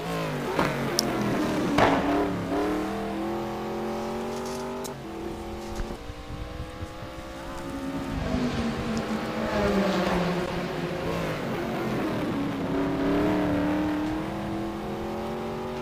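Saleen S7R race car on a lap at Sebring, engine note climbing and falling through gear changes, a strong near roar rising in pitch then dropping at each shift, heard alone without talk.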